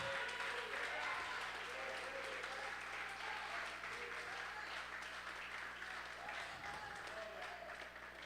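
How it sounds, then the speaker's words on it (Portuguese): Congregation applauding during a church service, a sustained, dense roar of clapping across the room with faint tonal sounds underneath and voices mixed into the crowd noise. "Pode aplaudir porque é para o Senhor."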